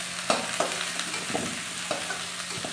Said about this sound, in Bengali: আমার কপি ভাজা হয়ে গেছে